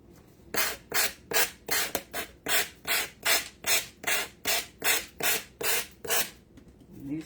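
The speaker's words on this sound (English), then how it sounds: "New sander on there. It's coming off." New power sander working on a Victorian valentine heart, heard as a steady series of about twenty rhythmic rasping strokes, close and moderately loud, with no talk.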